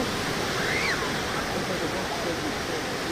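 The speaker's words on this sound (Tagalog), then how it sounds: "O, tinan mo yung creek ano." Continuous roar of water flowing in a creek at Whitby beach, North Yorkshire, steady and fairly loud from start to finish, with a brief faint voice-like sound over the water.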